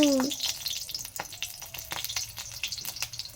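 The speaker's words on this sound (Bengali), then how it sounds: "কাঁচা লঙ্কা তেলের মধ্যে দিলে খুব ফোটে" Green chillies splutter in hot oil in a wok, a close, crackling sizzle with sharp irregular pops and spatters over a hissing bed, with no talking.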